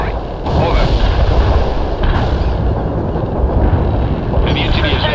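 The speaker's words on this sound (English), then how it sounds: "Aiming at the coordinates. Firing artillery." Artillery fires in the video game World in Conflict, a dense, loud rumble of booms and blasts rolling continuously, with a voice talking over the barrage.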